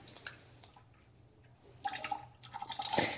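Engine coolant drains from a car, trickling and dripping softly up close with intermittent splashes that grow busier toward the end.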